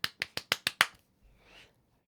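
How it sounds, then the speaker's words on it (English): Six soft, evenly spaced golf claps, quick and polite, followed by a faint murmur as they stop. "Golf clap."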